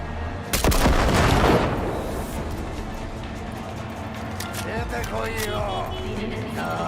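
Gunfire in Cyberpunk 2077: one loud sharp shot near the start with a rumbling tail, followed by quieter game ambience and a brief voice.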